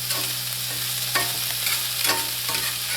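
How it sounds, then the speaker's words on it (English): Zucchini and onions stir-frying in a pan, a steady close sizzle with soft scraping stirs and a low hum running underneath. "It's cooking up nice. A stir fry is great."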